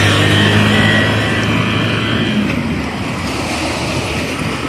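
Steady, loud wind rushing across the microphone by the sea, with a broad roar like surf in the background, continuous and unbroken throughout.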